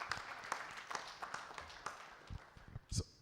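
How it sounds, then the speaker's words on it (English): A round of applause from an audience at a supplier development forum, scattered individual claps rather than a dense ovation, fairly faint and thinning out toward the end. "Please give her a round of applause."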